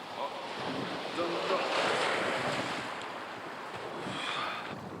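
Wind gusting over Great Slave Lake with waves washing against the shore, a continuous rushing roar that swells in the middle and again near the end, buffeting the microphone throughout.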